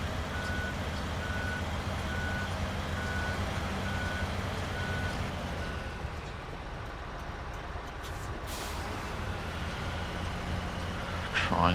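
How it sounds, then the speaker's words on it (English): A construction rig truck in the SnowRunner game backs up a trailer, its reversing alarm beeping steadily at an even pace over a constant engine drone, then falling silent partway through. "Trying to reverse this trailer,"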